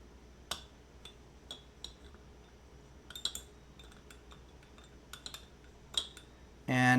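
Armenian coffee being stirred with a makeshift utensil in place of a whisk, giving sparse light metallic clinks and taps against the pot, scattered and close, ending in a brief louder burst.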